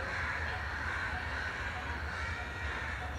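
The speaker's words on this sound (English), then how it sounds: "listen to those crows, listen to the noise" Crows cawing outdoors during a public talk in Bombay in 1982, heard faintly and repeatedly through a constant hiss of background noise.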